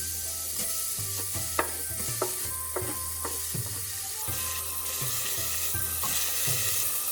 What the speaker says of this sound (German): als erstes braten wir jetzt die Zwiebeln an